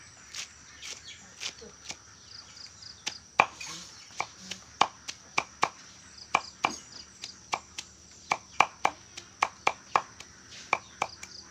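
Duck and chicken feed chopped by hand with a blade, a steady series of sharp, close knocks at a fairly regular rhythm, with faint insect and bird sounds in the background.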